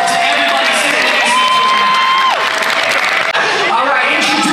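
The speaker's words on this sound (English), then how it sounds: "let's give a round of applause to everybody sitting" At Anime Pasadena, an audience breaks into sustained loud applause and cheering, with whoops and shouted voices over dense continuous clapping from a large crowd.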